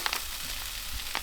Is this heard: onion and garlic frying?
yes